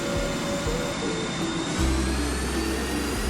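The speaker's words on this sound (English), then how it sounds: "Oh, finally, we have a different engine sound of this one" Simulated jet engine hum of an Airbus A350-1000 in the GeoFS flight simulator game, a steady whine with a low rumble that swells partway through, alone without talk.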